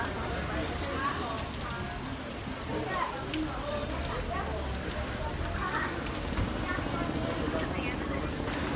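Heavy rain pours down at the end of a walking tour through the Liberdade neighborhood, a dense, steady wash of drops on surfaces that continues throughout, with people talking over it.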